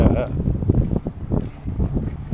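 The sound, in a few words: wind by a lake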